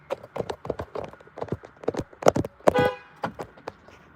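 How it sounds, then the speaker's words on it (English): A car horn gives a short honk among rhythmic clip-clop knocking sounds, fairly close and clear. "There is your honk, buddy. There is your honk."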